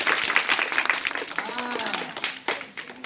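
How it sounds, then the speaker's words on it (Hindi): Children clapping their hands in a classroom, a brisk patter of claps under a raised adult voice and other chatter. "अरे बजाओ ताली जी।"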